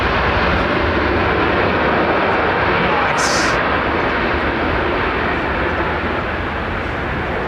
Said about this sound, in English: Air Canada 737 MAX, man. All the way across the Atlantic.